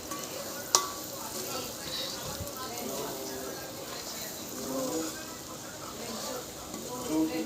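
Curry sizzles in a pan as coriander powder is stirred in, a soft continuous frying hiss with light scraping from the stirring and one sharp click early on.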